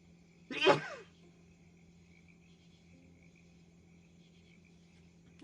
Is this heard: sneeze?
yes